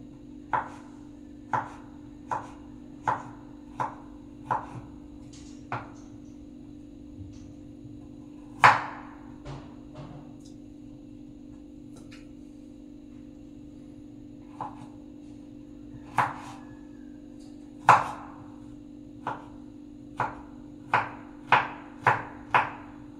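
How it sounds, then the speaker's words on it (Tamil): Ginger being finely chopped with a knife on a board for semiya upma: a run of crisp, evenly spaced blade strikes, a short pause with a few scattered knocks, then a quicker burst of chops. The strikes are close and clear over a steady low hum. "அப்புறம் இஞ்சி சின்னதாக கட் பண்ணி எடுத்துக்கோங்க."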